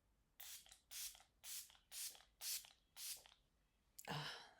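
Six quick, evenly spaced hisses of Milk Hydro makeup setting spray from a light pump sprayer, close and crisp, followed by a short louder breathy burst at the end.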